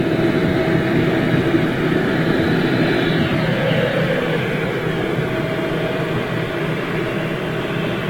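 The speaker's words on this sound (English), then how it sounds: "KLM 737 on push." KLM Boeing 737 airliner on pushback at Manchester Airport, its engines giving a steady, loud broadband roar and whine that fades slightly toward the end, heard alone without voices.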